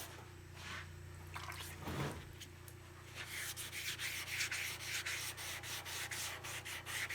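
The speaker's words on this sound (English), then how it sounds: "And you just start sanding." Steady hand sanding on a 1973 Toyota Celica body panel, a soft continuous rub that shifts into quicker, rhythmic back-and-forth strokes over a low background hum.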